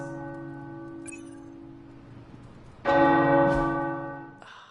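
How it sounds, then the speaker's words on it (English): Tower bells ring in the video game Midnight Suns, one sustained tone at first and then a loud burst of layered bell peals that rings on and slowly fades. "The tower bells are ringing"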